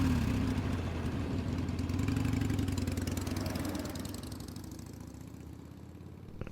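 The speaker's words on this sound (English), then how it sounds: "as I climbed onto the back of her motorcycle, grasping a hold of my wrists just at her waist, pulling us close as she drove off" A motorcycle engine runs steadily with a low, idling rumble, then gradually recedes and fades as the bike drives off, with no voices present.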